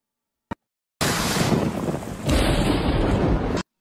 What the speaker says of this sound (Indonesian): Hujan petir mengelilingi rumah tersebut